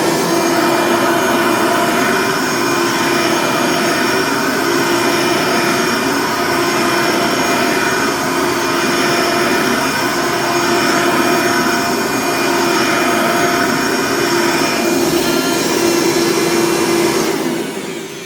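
An old vacuum cleaner with no belt fitted runs loudly and continuously nearby, a harsh steady motor roar with a high whine that holds for the whole stretch before tapering slightly at the end.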